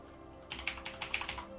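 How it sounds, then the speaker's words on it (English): Someone types on a computer keyboard while modding a game on a PC, giving a short burst of quick, uneven key clicks close to the microphone after a moment of quiet. "So I'm typing in missives here."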